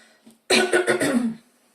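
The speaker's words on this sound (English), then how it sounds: "Sorry guys for my coughing." A single loud, close fit of coughing, several rapid hacks lasting about a second, after a faint breath.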